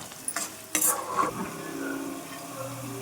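Chicken fries in a pan with a close, steady sizzle, opened by a couple of sharp clinks and scrapes of a utensil against the pan.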